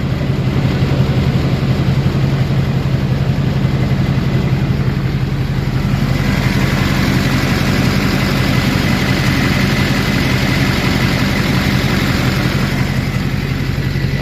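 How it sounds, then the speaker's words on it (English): A classic Chevrolet Duramax diesel pickup idles with a loud, steady, deep exhaust rumble and an even low throb that holds without a break throughout. "Listen to that rumble."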